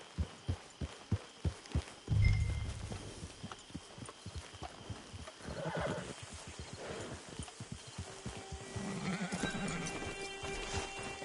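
Horse hooves clip-clop in a steady, evenly spaced rhythm in the video game Red Dead Redemption 2, followed by a thud and then softer ambient game sounds with faint tonal effects.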